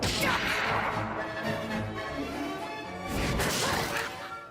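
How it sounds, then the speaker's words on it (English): In an anime fight, a huge kick sends a guard through a door and smashes it open. A dense, sustained crashing roar fills the scene with no pause. "With one huge kick, she sends a guard flying through a door, smashing it open"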